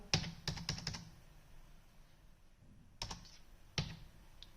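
Keys tapped on a computer keyboard while entering data in an Excel spreadsheet: a quick burst of several clicks, then a pause and two more scattered taps, close and fairly quiet with no talk.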